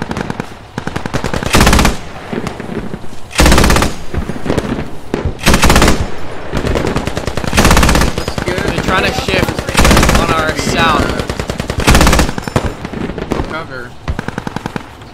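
Heavy automatic fire from a ZU-23 anti-aircraft gun in a video game bridge defense, sustained loud bursts with brief pauses, dense rattling shots throughout, a voice occasionally under the din.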